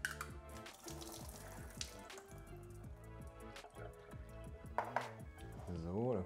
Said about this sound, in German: Nur das Wasser von den Artischockenherzen abgießen.